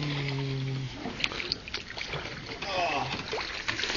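Canoe paddled along a shallow canal, with soft water splashes and paddle strokes under people talking, plus wind noise and a brief tonal hum at the start.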